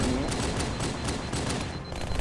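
Dense, rapid pistol fire from the Halo 2 video game, a continuous stream of overlapping shots with no gaps, loud and steady throughout.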